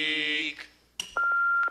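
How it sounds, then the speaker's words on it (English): An answering machine beeps once, a sustained steady tone following a burst of other tones and a brief clatter, loud and close in a stage musical setting. "That was a very loud beep."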